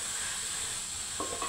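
Grated carrot and beetroot sizzle steadily in a pan, with a couple of scraping stirs near the end.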